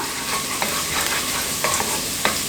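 Chunky chopped garlic fries in a pan for chilli garlic noodles, making a loud, close, continuous sizzle broken by a few stirring scrapes at irregular intervals. No speech.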